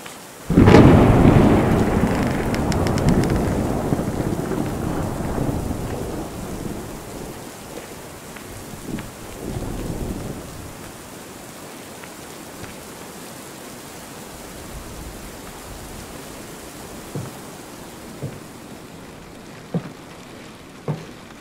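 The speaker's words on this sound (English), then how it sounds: "I need to look for shelter from the rain before I catch cold." Rain and thunder in the video game Lunacy: Saint Rhodes: a loud, rolling thunderclap opens over heavy rain, then fades into a steady rain hiss broken by scattered sharp drips and taps.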